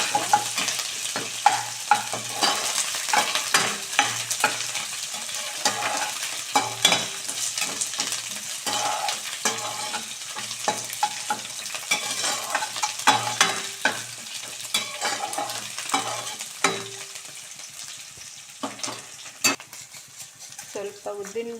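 Bitter gourd pieces sizzle steadily in a hot pan for gojju while a spatula scrapes and stirs in frequent rhythmic strokes, close and continuous with no talk.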